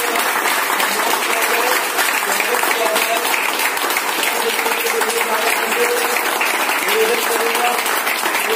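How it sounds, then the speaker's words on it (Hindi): Audience of about 25 to 30 people applauding loudly at an honoring ceremony for a Sahara India Pariwar worker, continuous vigorous clapping that holds steady for the full stretch, with faint voices beneath. "तालियां हो तो जोरदार होनी चाहिए।"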